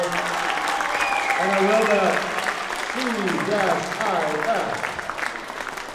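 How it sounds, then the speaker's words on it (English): Audience applause for a school's 7th grade band at a concert, a steady wash of clapping lasting several seconds with a voice talking over it. "Let's give another round of applause for our 7th graders."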